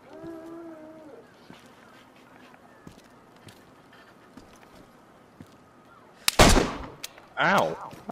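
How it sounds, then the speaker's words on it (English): Gunfire in the DayZ video game: two loud, sharp bursts close together near the end, after a stretch of quieter background with scattered small clicks and a brief voice at the start. "Someone just shot me again."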